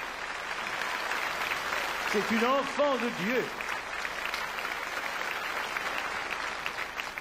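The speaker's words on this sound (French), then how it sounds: "Applaudissez-la." Audience applause in a concert hall for an opera singer, a broad steady wash of clapping that runs throughout while someone speaks briefly over it partway through.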